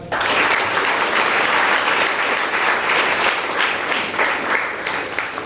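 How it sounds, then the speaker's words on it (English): Loud, dense audience applause at a Toastmasters meeting fills the whole stretch, steady and sustained from start to finish with no talk on top. "can you please have a huge round of applause?"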